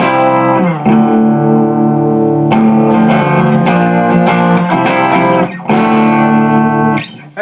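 Distorted electric guitar with effects strums the chorus chord progression of a song, resonating with reverb and ringing sustain. The chords change several times, loud and close, with no voices.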